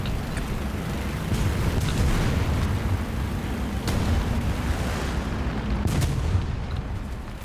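Tank cannon fire in War Thunder realistic battles, a German VK 3002 (M) with a 75mm gun, several loud booming shots and blasts scattered across continuous engine and battlefield rumble, no talking.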